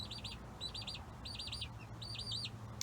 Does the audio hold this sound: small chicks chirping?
yes